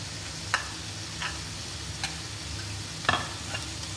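An onion and tomato curry sizzles steadily in the pan as half a green chili is added, with a soft frying hiss and a few sharp clicks of stirring, quiet and close.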